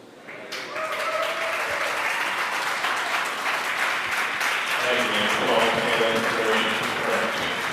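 Clapping and cheering fill SpaceX mission control after the SES-12 launch, a sustained burst of applause from many people that swells in within the first second and holds steady and loud throughout, with voices mixed in.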